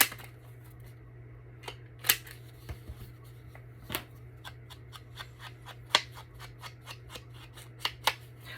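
Sharp, crisp snips from Tim Holtz scissors cutting paper ring out one at a time at irregular intervals over a steady low hum, close by.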